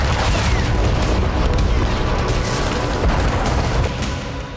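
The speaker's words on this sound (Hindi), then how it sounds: "खार्किव में दाखिल MLRS से ताबड़तोड़ रॉकेट बरसाए जा रहे हैं" MLRS rocket barrage shelling Kharkiv: a dense, loud rolling rumble of booms and blasts, continuous over several seconds, easing slightly toward the end.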